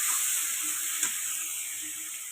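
Spices with chili powder fry in a pan for a katla fish curry, making a steady close hiss and sizzle with a brief stirring clatter midway.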